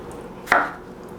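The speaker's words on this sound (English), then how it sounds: "Just slicing right up, the seeds falling right out." A knife slices through a ripe fruit with seeds inside. There is one sharp, close cut, then a brief fading rustle, set against quiet room tone.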